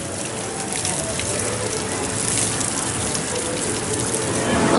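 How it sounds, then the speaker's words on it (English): Water clock at Dollywood theme park running, a continuous loud gushing and splashing of flowing water that holds steady and swells slightly toward the end. "It's a water clock."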